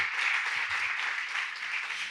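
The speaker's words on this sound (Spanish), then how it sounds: "¿Qué tal si le dan un fuerte aplauso a nuestros actores del día de hoy?" A church congregation gives the day's actors a steady round of applause, a dense wash of clapping hands lasting the whole moment without pause.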